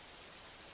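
Steady rain falling in a small zen garden with bamboo fences, a dense, even patter of drops on surfaces, close and continuous with no voices.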